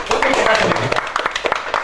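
Audience applause at a production company anniversary event, a loud scattered burst of clapping with voices talking over it.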